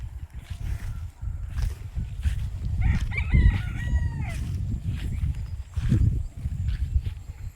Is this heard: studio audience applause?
no